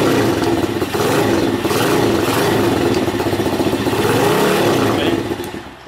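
A Tao Tao 140cc pit bike engine revs loudly and close, a steady buzzing roar that swells and eases in several throttle blips without pause.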